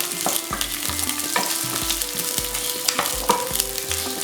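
Onions sizzle in a hot pan as a utensil stirs them, with regular scraping knocks about twice a second, close and steady, no voices.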